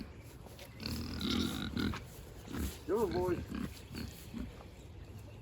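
Pigs grunt and snort close by in low, rough bursts while someone speaks over them, coaxing them toward a livestock trailer.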